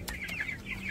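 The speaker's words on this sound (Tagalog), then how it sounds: "Ayan, ang laki-laki na naman yung manok na." A chicken clucking close by in a few short, quick calls, with no talk over it.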